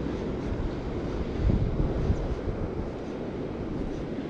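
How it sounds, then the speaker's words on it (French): Wind blowing outdoors during lure fishing, a steady low roar buffeting the microphone with stronger gusts midway, with no voices. "Il y a du vent, ça va être un peu compliqué."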